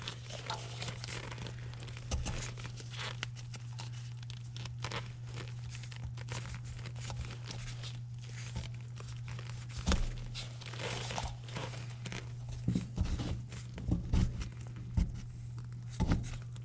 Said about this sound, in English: Take this old gasket material off.